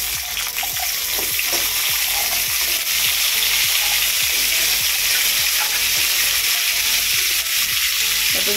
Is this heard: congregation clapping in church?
no